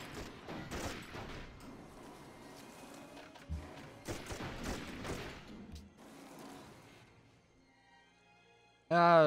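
Rocket artillery fires in the strategy game Civilization V, played with the Earth 2014 mod. A few crackling, booming volleys rise and fade at moderate loudness, then things quiet down before a sudden loud tone at the end. A voice speaks between the volleys.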